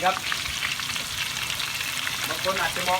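Banana slices for banana chips frying in hot oil give a steady, dense sizzle and crackle close by, continuous throughout with occasional louder pops and a faint voice.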